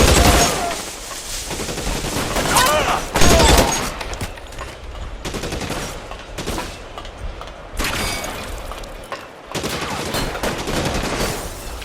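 Gunfire in a shootout in the video game L.A. Noire, loud bursts of rapid shots and volleys following one another closely, with short pauses between bursts.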